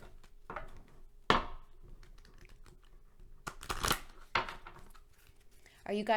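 Oracle cards are shuffled close by in a few short, crisp riffling bursts separated by quiet pauses, and a voice briefly starts at the end.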